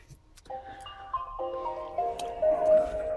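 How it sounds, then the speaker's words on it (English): A Nissan Leaf electric car powering on gives a rising series of clear electronic chime tones that layer into a brief melodic start-up jingle, heard close over a quiet interior. "turn the car on."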